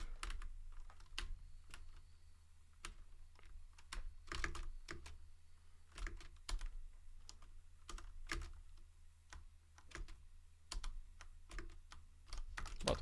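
Someone types steadily on a computer keyboard while playing Elasto Mania, with quick, uneven bursts of close, crisp key clicks over a low background hum and no voices.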